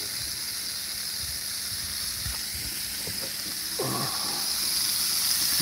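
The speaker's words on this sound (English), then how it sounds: "Burgers sizzling." Burgers sizzle on a 36-inch griddle outdoors at Whitefish Lake, a steady loud hiss with faint background sounds and no talk.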